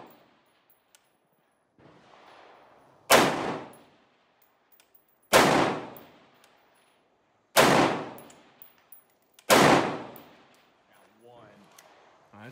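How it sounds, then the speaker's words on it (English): An AR-15 fires four sharp, loud single shots spaced about two seconds apart, each with a ringing decay, and a voice murmurs faintly between them. "I shoot too fast."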